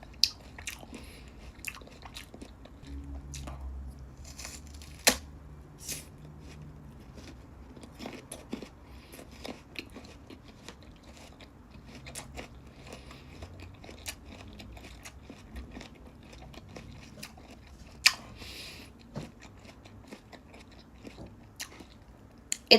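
Someone bites and chews crunchy kaimito (star apple) fruit close to the microphone, with sharp crisp snaps scattered among softer wet chewing over about twenty seconds of quiet.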